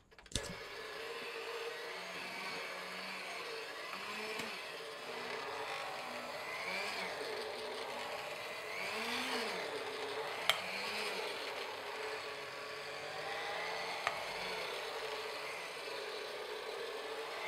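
Electric mixer kneading pandan donut dough, a steady continuous motor whir and hum with a faint rhythmic churning wobble, constant and close throughout with a couple of brief clicks.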